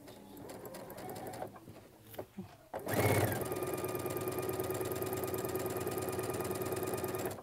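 A sewing machine runs a quarter-inch seam on quilt pieces, starting up after a few soft handling clicks and then humming steadily and loudly at close range through the rest.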